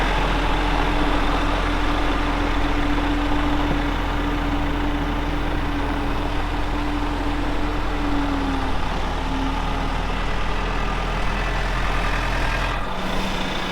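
A skid loader's engine runs steadily at a low, heavy idle-like drone while a Christmas tree wagon is unloaded, loud and continuous throughout, with no talking and a brief dip near the end.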